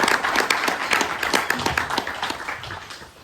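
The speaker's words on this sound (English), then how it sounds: "Give him a round of applause, please" An audience at a fan convention applauds, a dense, steady patter of many hands clapping that holds for a few seconds and then gently fades.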